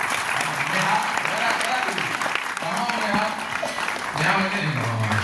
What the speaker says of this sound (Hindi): लेकिन उसके लिए ताली जरूर बजा दूंगा।